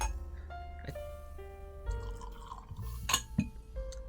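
Nikka From The Barrel Japanese whisky poured from a short-necked bottle into a glass with a short gurgling trickle and a few small drips and clinks.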